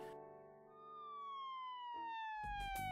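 Ambulance siren wailing with a long falling tone, fairly faint and distant, followed by a brief burst of other noise at the end.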